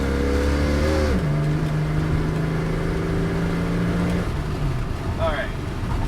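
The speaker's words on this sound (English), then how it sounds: "Wide open throttle." Car with a Sniper 2300 throttle body and spacer plate at wide open throttle: a loud engine roar rises, shifts down to a sustained high drone for a few seconds, then eases off.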